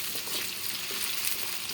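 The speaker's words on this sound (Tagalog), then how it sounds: "prito lang natin ng konti" Potatoes and carrots fry in a pan for chicken afritada, giving a steady, close, even sizzle with no talking.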